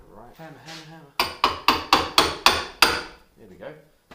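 Seven sharp hammer blows in a steady rhythm, loud and close, with brief voice sounds before and after.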